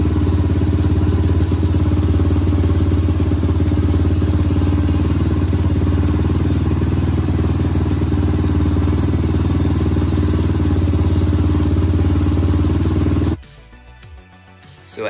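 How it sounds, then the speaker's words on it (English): A Honda CRF150 dirt bike engine runs at a steady loud idle after a top end rebuild, a continuous mechanical chugging drone that cuts off abruptly near the end. "the bike runs, but the longer it runs, the idle slowly rises and rises"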